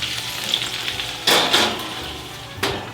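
Sliced potatoes sizzle and crackle in a hot pan as they are stirred and turned, with a few sharp bursts of frying noise and clinks close by.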